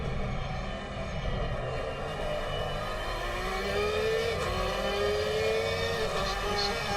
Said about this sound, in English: Just listen to that Porsche.